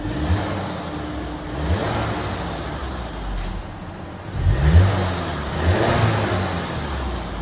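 A 2018 Audi A3 S-Line with a 2.0L turbo engine and straight-pipe exhaust idles and revs in a few short blips, a moderately loud close rumble with a broad hiss.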